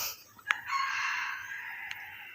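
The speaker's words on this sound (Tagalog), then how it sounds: "Malaking tilaok yun." A rooster crows loudly and close by, one long, strained cock-a-doodle-doo that holds for over a second, with a brief click just before it.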